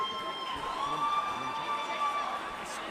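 A crowd cheers and shouts loudly at a girls' water polo match in a pool, a sustained roar of voices with whistles and whoops, steady and close.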